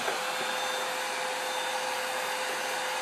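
Vacuum cleaner sucking up bugs indoors, a steady close whine of the motor running without pause and no talk over it.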